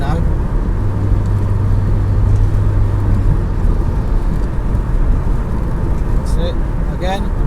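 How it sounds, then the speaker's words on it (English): Car cruising in sixth gear at steady speed on a road, a constant low engine and road rumble throughout, with faint traffic noise in the background. "I'm going to use my 6th gear now."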